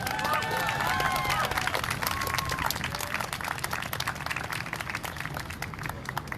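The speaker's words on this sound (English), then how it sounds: "why don't everyone give themselves a round of applause for being here today" A crowd at a Black Lives Matter protest at the Rhode Island State House applauds steadily, dense clapping sustained throughout, with some whistles and voices mixed in.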